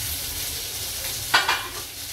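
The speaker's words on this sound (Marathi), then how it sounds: "कांदा घालते." Chopped onion hits hot oil in a pan with a sharp double burst of sizzling. The sizzle rises clearly over a steady background of frying, and no one speaks.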